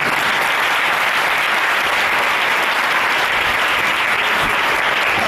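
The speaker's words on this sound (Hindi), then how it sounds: "आवाज अच्छी लगी और तालियां खुदावंद के लिए हो जाए।" A church congregation at a prayer week convention claps loudly and continuously, giving applause to the Lord after a sermon passage; dense, even clapping fills the whole stretch without a break.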